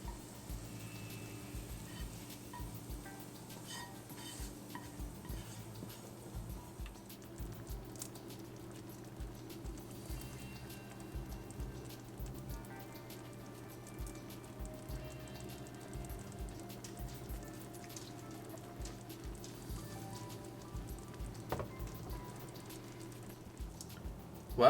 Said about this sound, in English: Now we'll add the tadka to the dish.